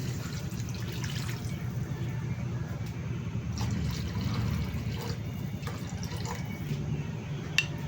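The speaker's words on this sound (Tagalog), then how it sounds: "Lagyan ko na po siya ng tubig." Water poured into a cooking pot for sinigang with tomato and taro, a continuous soft splashing fill heard close by at low level.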